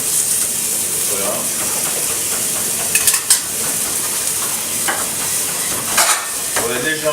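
Vegetables glazed with honey sautéing in a pan, a loud continuous sizzle close by with occasional utensil scrapes and clinks against the pan.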